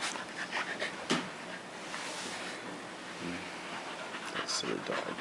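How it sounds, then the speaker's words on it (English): A dog panting close by with soft, brief whimpers, quick breathy pulses running under a person's voice talking to it. "That silly dog."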